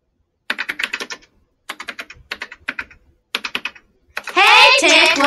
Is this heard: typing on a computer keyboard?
yes